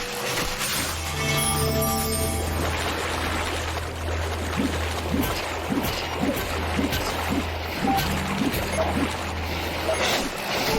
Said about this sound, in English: Now that sound you're hearing, that's actually the low health noise.